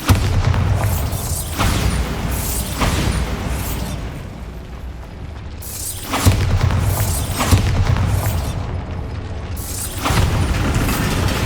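Bombarda spell blasts in the video game Hogwarts Legacy: a series of loud booming explosions with rumbling bursts, recurring roughly every few seconds across the clip.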